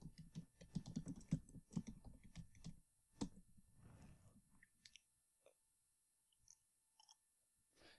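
A Google search is typed on a computer keyboard in a rapid, close run of key clicks, then slows to a few scattered taps and a final click or two in an otherwise silent room.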